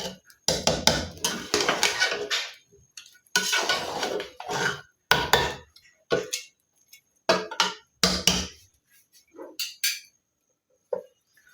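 A ladle scrapes and clanks in irregular bursts, separated by short pauses, as a desi chicken pulao mixture with chilli powder and garam masala is stirred in a pot.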